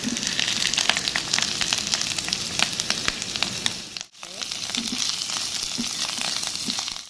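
Mushrooms fry in a pan for a Filipino ginisang corned beef. A close, bright, crackling sizzle runs steadily, dips into near-silence for a moment, then returns just as busy.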